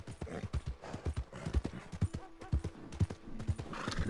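Horse hooves clip-clopping at a steady walking rhythm in Red Dead Redemption 2, close and moderately loud, with a brief whinny and faint game ambience around the footfalls.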